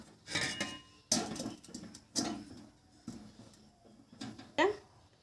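Metal cake pan clanks down onto a stand inside a sand-filled cooking pot, several sharp close clatters and scrapes of metal on metal, spaced irregularly over a few seconds, with a voice talking between them.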